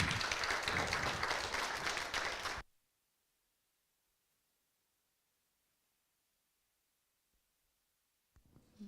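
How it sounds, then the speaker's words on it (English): A festival audience applauds its speakers, with a burst of dense clapping lasting about two and a half seconds before cutting to near silence, then a little noise returns at the very end. "I want to ask you all a big round of applause for our speakers today"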